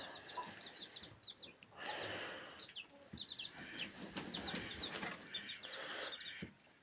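Several chickens cluck and chatter nearby in irregular bursts, with soft rustling and a quiet background between calls.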